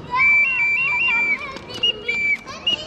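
Small toy whistles from Gravina in Puglia being blown, a series of shrill, warbling high tones with short trills and pauses between, loud and close with faint voices behind.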